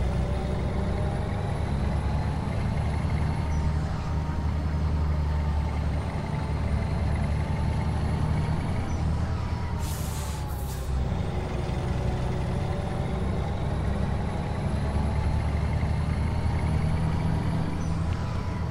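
A heavy truck engine in Euro Truck Simulator 2 drones steadily at low pitch, with whining tonal sweeps and a short burst of air-brake hiss midway, continuous and close.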